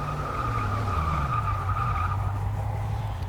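A car brakes hard from about 100 in the Forza Motorsport 6 racing game, with a continuous tire-skidding squeal over low engine drone lasting a few seconds, steady and close.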